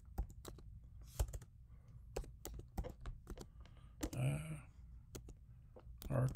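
Typing on a computer keyboard, scattered close key clicks and taps in irregular bursts, with brief soft voice sounds between them.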